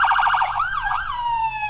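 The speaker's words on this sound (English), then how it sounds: "A real police car. Let's go." A toy police car siren sounds close and loud, with a fast electronic wail that warbles rapidly, then slows into longer sweeps before settling on a steady tone.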